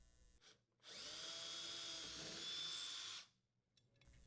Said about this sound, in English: Using a 1/8 inch diameter drill bit, drill the holes where marked.